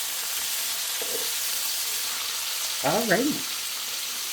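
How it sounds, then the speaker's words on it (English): Pork spareribs searing in a hot pan with a steady, loud sizzle throughout, while someone speaks briefly over it. "we'll just keep turning them until they get nice and seared on all sides"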